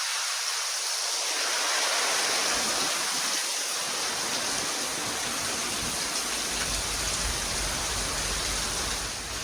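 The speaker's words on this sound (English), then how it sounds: "It's been pouring all day." Heavy rain from Hurricane Milton pours down steadily over a Florida garden and neighborhood, a dense, continuous hiss with gusty wind that stays loud throughout, no voices.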